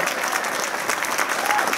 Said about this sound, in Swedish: en varm applåd för trumpetgänget!